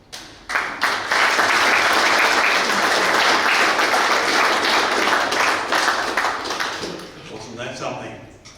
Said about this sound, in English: Big round of applause again to Keith, to Ian and to Erica for taking the time out to tell us about that.